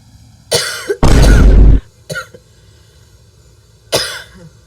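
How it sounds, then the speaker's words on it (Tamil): A few sharp coughs close by, then a long, harsh coughing fit, followed by two more separate coughs after short pauses. "ஐயோ, இருமல்."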